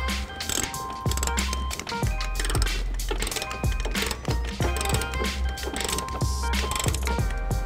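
Rapid, steady clicking of a ratchet with a 3/4 inch socket tightening trailer hitch bolts on a 2008 Ford Taurus X, with bursts of loud ratcheting over a constant low hum and no speech.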